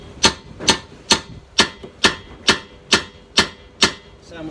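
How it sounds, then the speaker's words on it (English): A big hammer strikes a suspension spring hook about ten times in a steady rhythm while a Ford Mondeo Mk3 rear strut and shock absorber are being replaced; each blow is a sharp, close metallic tap with a short ring, and no one speaks. "So now I'm just going to get the big hammer and tap the hook down."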